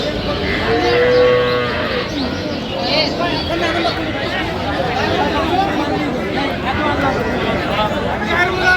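Cow with calf at a village cattle market in Aftabganj, lowing briefly among busy crowd chatter and bargaining voices, the moo short and partly masked by nearby talk.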